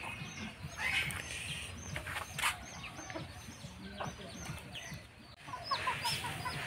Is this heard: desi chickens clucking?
yes